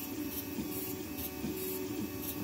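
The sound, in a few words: 3D printer printing a large support part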